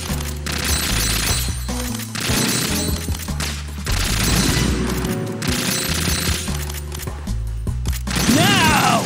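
Assault rifle gunfire in Metal Gear Solid 2 VR Missions, Snake in tuxedo, loud bursts and rapid shots cutting through driving game music, with impacts and a rising electronic tone near the end.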